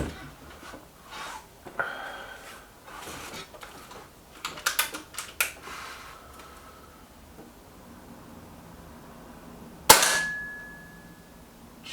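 A single sharp air rifle shot from a Kral Puncher Maxi cracks out loud near the end, with a bright ringing metallic tail after the pellet strikes, preceded by quiet handling noises and rustling.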